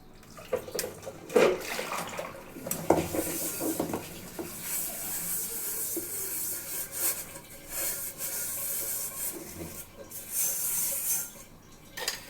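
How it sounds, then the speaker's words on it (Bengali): Dishes, plates and pots being washed by hand with water in a home kitchen, with scattered rubbing, scraping and splashing sounds and soft clinks at close range under a faint background hum. "থালা বাসনগুলো ধুয়ে"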